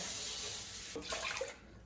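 Water pours into a pot for cooking orzo, heard as a quiet, steady splashing run that swells briefly near the end before fading.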